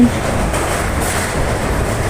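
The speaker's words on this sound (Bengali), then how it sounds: "ভালো মতো ট্রেনে উঠে গেছি" Passenger train moving, heard from inside a carriage in Assam, a loud continuous low rumble and roar of running wheels with no talk.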